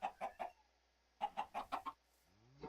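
Chickens in a video game give short bursts of clucking, first three quick notes and then a run of five more, clear and close against silence, followed by a rising chirp.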